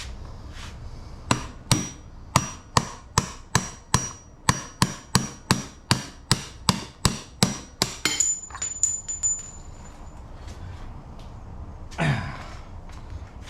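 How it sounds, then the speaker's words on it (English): Sharp metallic hammer strikes on a punch, knocking out a pin on a Minn Kota trolling motor, about twenty in a fairly steady rhythm, close up, followed by a brief exhale near the end. "That's it. Hammer and a punch."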